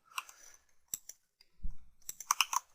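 Keys clack on a computer keyboard during 3D modeling work, with a few scattered sharp clicks followed by a quick burst of taps, close and quiet, no talking.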